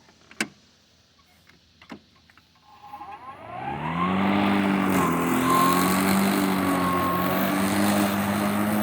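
A Kobalt 40V Max 20-inch battery electric push mower starts after a couple of clicks, spins up with a rising whine, then runs loud and close with a steady motor hum and blade whir as it cuts taller grass.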